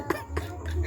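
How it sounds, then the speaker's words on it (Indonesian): A person gives a couple of short, dry coughs up close, separated by brief gaps, with a low murmur of background noise and no speech. "Saya bentar batuk ini sih"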